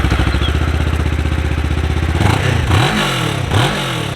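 Kawasaki Ninja 650 with stock exhaust idling with a rhythmic lumpy pulse, then revved in two or three sharp throttle blips, loud and close.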